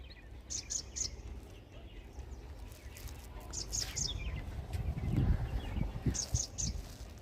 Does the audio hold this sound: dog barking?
no